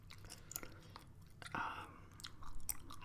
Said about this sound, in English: It's basically gum chewing and like eating